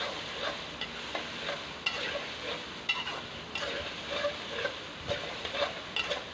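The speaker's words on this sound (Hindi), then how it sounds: "हाई फ्लेम पर भूनते रहेंगे।" Chicken aloo keema with finely chopped green chilies being stir-fried on high flame, a steady loud sizzle broken by repeated scraping strokes of a spatula against the pan, close and continuous with no voices.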